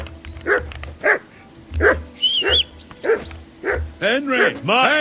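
Dog in the video game Kingdom Come II barking repeatedly at close range, loud regular barks that turn into a quick flurry of yips near the end, with brief human shouting mixed in.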